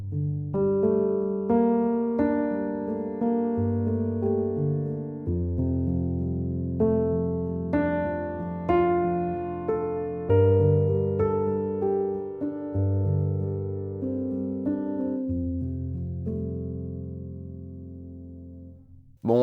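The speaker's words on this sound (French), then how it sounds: "Je vais prendre ce preset qui s'appelle Basic Felt." A Native Instruments Noire sampled piano with the Basic Felt preset plays slow, soft, melancholy sustained chords with a muted, warm tone. The playing is continuous and fairly close, with no voices.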